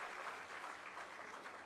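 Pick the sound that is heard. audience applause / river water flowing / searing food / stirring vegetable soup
audience applause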